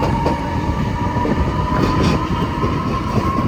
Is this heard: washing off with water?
no